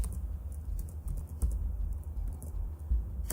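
Rapid keystrokes on a computer keyboard as a search term is entered, a quick run of crisp clicks with brief pauses, close and fairly quiet over a low background hum.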